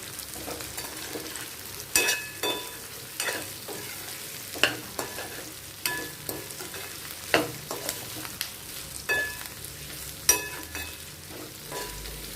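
Raw banana pieces sauté in a kadhai, a soft continuous sizzle punctuated by repeated sharp scrapes and knocks of a spatula stirring every second or so, close and fairly quiet, with no voices.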